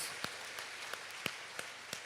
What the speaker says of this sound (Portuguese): Dê um aplauso à palavra do Senhor, querido.